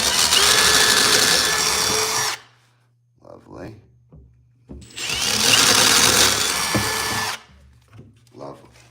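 A power drill bores through a door with a larger bit to make the tunnel for a brushed nickel door handle, running loud in two long bursts with a quiet gap between, followed by brief low talk.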